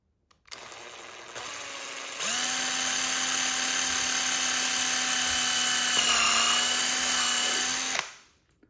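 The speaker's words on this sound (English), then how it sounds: "Now we have to drill a 2 millimeter hole here." A power drill bores a 2 mm hole in the handle of a gray Bialetti Moka Induction 2-cup pot, its motor whine spinning up and holding a steady, loud pitch for about six seconds before stopping.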